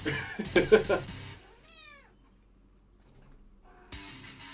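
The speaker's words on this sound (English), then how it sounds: "Are you meowing at me? Kitten?" A cat meows once in the video game I Love You, Colonel Sanders!, a clear rising-and-falling cry that follows a loud burst of other game sound, with a quiet pause before the noise returns.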